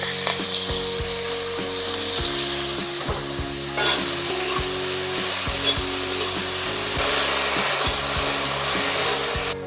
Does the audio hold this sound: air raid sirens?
no